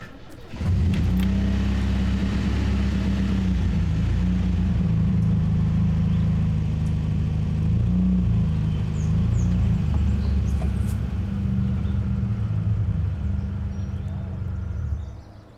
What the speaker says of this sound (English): I'll just move the truck to Scudder's lot.